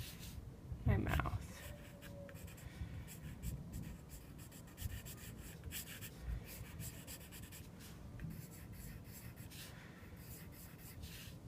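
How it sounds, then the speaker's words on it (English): Pencil sketching an outline for a self-portrait on paper, a soft continuous scratchy rubbing with faint stroke pulses, close and quiet, against a steady background hum. "once I have the outline with my pencil"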